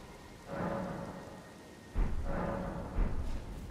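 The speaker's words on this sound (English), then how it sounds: "It's still raining." Rain and thunder in Elden Ring, two rolling rumbles of thunder rising over a continuous patter of rain, moderately loud with no speech.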